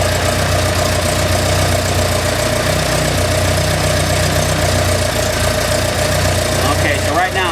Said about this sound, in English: right now I'm sitting at a pretty erratic idle